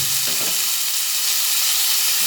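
Taro stolons (kochur loti) fry in oil in a pan, giving a loud, continuous close sizzle with faint stirring scrapes near the start.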